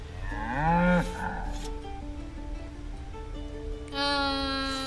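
A cow in Baldur's Gate 3 lets out one loud, close, drawn-out moo, followed by quieter ambient tones.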